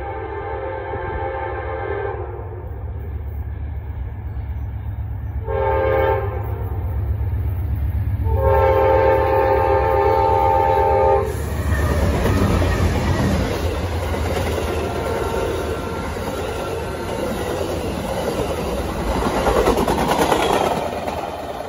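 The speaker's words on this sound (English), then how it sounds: "Amtrak engine number 19 is leading today's Amtrak 19." Amtrak passenger train led by engine number 19 sounding its horn in long repeated blasts, then a loud rumbling roar of cars rolling close by.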